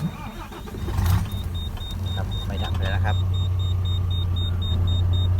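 A large truck diesel engine cranks briefly, then catches and settles into a steady, low, loud rumbling idle that continues to the end.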